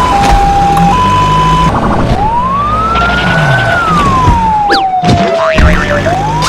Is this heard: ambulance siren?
yes